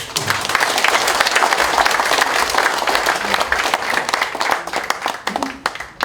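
Audience in a community hall auditorium at a foundation's founding ceremony breaking into warm applause, dense sustained clapping from a large crowd, loud and close, with a voice faintly under it.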